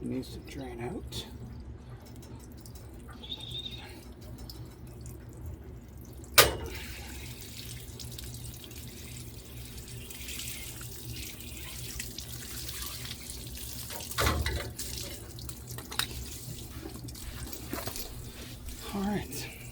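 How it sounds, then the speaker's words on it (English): Water drains from a cut plumbing supply line, a steady close running and trickling flow, with a sharp knock partway through and someone speaking over it. "there's a little bit of water in this line that needs to drain out"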